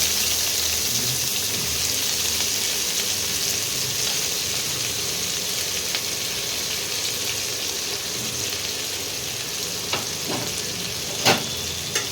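Two large chopped onions, added to a pan with garam masala for a green chicken curry, sizzle and fry steadily, a close, even crackle with a few sharper clicks toward the end.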